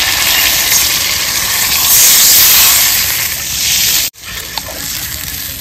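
Water pours into a pan of frying hilsa fish, a loud rushing hiss that swells and then cuts off abruptly, leaving a quieter simmer.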